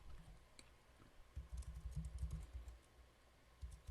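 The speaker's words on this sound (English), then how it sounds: "In the source box, type produce" A computer keyboard being typed on nearby, with short bursts of soft, quiet key clicks separated by brief pauses.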